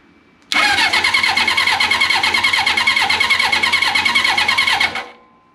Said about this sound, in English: It's turning over.